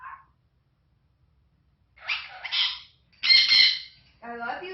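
A pet talking bird gives a brief call, then several loud squawks and chattering bursts after a pause, close and clear, with no other sounds between them.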